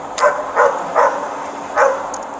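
A small puppy inside a car lets out four sharp yapping barks, moderately close and spaced unevenly, over a low background hiss with no speech.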